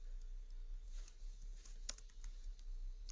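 Computer keyboard keys being typed while writing React code, soft irregular clicks and patter at a close, quiet level over faint background hum.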